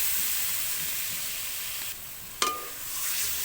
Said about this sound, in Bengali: এখন এর মধ্যে আমি দিয়ে দিব মাছ।